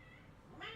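A pet cat gives a short, quiet meow at the end of a brief moment of low room noise.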